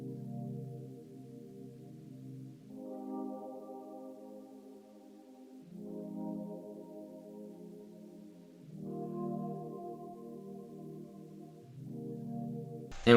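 Soft, sustained synth chords change every few seconds, a warm ambient pad with slow swells and no percussion, ending on a brief click.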